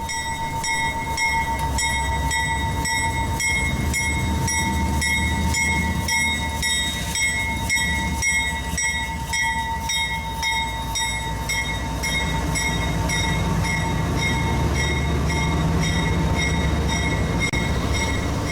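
A CSX freight train, O717, rolls through Iris interlocking onto the Homestead subdivision, its wagons making a steady, loud, continuous rumble and clatter with bright sustained tonal squeals on top, and no voices.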